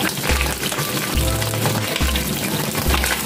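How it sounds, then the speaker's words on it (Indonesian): Eggplant frying in hot oil in a home kitchen, a loud continuous sizzle and crackle close by, with a low hum pulsing on and off beneath it. "sekarang kita akan menggoreng terongnya dulu."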